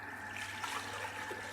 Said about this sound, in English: Whoa, splashed it everywhere